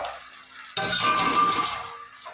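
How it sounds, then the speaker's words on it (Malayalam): Fried chicken pieces dropped into a hot pan of soy and tomato sauce for chilli chicken, setting off a sudden loud sizzle that carries on steadily, with a faint stir near the end. "ഇനി നമ്മുടെ ഫ്രൈ ചെയ്ത് വെച്ചിരിക്കുന്ന നമ്മുടെ ചിക്കൻ ഇതിലേക്ക് ആഡ് ചെയ്യുകയാണ്"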